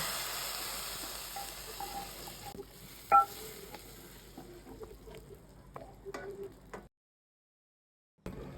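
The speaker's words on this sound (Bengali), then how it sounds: "পেঁয়াজটা বাদামি হয়ে এলে তাতে সামান্য জিরার গুঁড়া দিয়ে ফোড়ন দিয়ে" Browned onion tempered with a pinch of cumin powder in a pan for a chicken dish, sizzling and crackling up close with stirring scrapes, fading out before a brief pause near the end.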